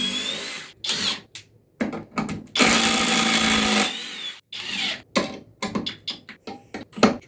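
A cordless power drill whines in several bursts of varying length, one long sustained run in the middle, loud and close with short pauses between.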